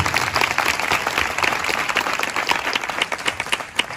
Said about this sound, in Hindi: एक बार फिर ताली बजाएंगे प्रभु के लिए।